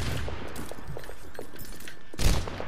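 Rapid gunfire from the Overwatch video game crackles in a steady stream of sharp shots, ending in a louder burst near the close, with no voices over it.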